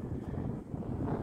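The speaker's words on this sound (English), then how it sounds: "The wind is kicking me around" Steady outdoor wind buffeting the microphone, a loud continuous low rumble that swells slightly toward the end, with no voices.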